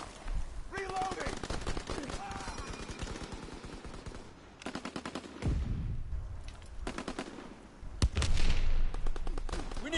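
M1 Garand rifle fire in a WWII video game, bursts of shots and loud cracks in clusters amid battle noise, with a voice talking over part of it.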